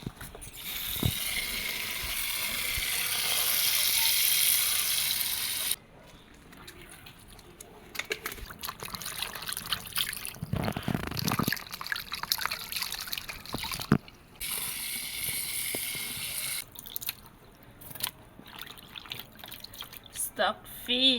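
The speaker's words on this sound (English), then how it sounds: "let me wash the stock fish" Stockfish is washed for Nigerian atama soup, with running water splashing and dripping in uneven bursts alongside handling noises and a loud rushing stretch early on.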